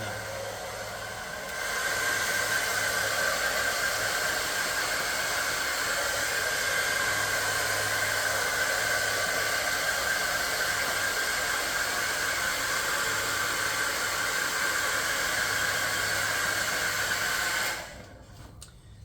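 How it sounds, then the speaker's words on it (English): A heated hair dryer blows on freshly cleaned resin 3D prints, a steady, loud whooshing hiss that starts after a brief quieter moment and runs evenly for about fifteen seconds before shutting off. "The other benefit is that as it is a heated hairdryer, heat makes the initial prints a lot easier to separate from their supports."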